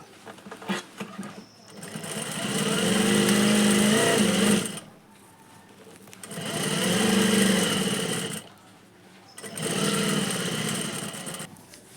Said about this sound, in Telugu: ఉల్టా తీసుకున్న తర్వాత నాలుగు వైపులు కుట్టుకోవాలి